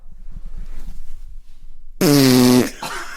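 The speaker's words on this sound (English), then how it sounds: "Can I let out a massive fart into the mic?" A loud, buzzy fart blasts straight into a microphone for about half a second, close and harsh after quiet background murmur.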